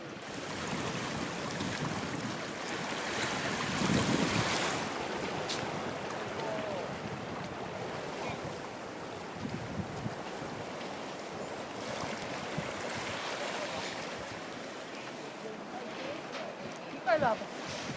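Sea waves wash steadily around a boat on open water with wind, and a few people talk faintly beneath the surf.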